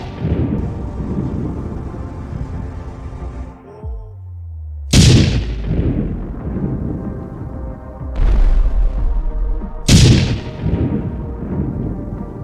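Explosion impacts of a GBU-57 bunker buster bomb, three sharp heavy booms spaced a few seconds apart over a rumbling background, each impact followed by a long decaying roar.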